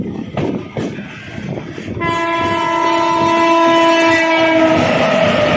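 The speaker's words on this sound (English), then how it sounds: "Goods train is arriving." A goods train hauled by a WAP9 locomotive rumbles and clatters close by, then a loud, sustained horn blares and holds steadily to the end over the continuing rail noise.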